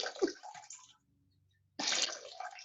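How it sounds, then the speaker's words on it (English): Water is poured heavily onto a potted plant, two short rushing splashes separated by a quiet pause, close and fairly soft. "I'm just really heavy watering this one."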